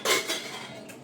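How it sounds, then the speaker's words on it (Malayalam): Pressure cooker being opened in a home kitchen, a sharp metallic clink of the lid up front followed by a fainter second clank and a brief rattle of metal against metal. "കുക്കർ തുറക്കുവാണ്"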